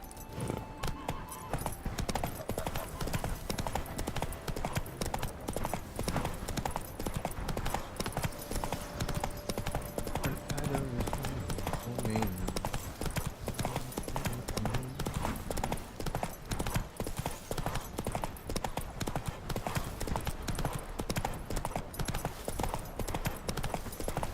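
A horse's hooves clip-clop at a steady trot throughout a stretch of The Witcher 3 video game, continuous and moderately loud, with faint game music and effects layered underneath.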